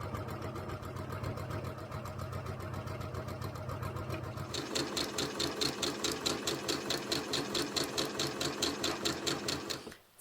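A sewing machine stitching French seams on a skirt. It runs as a fast, even mechanical whir that becomes a louder, crisply rhythmic needle clatter midway, then stops abruptly.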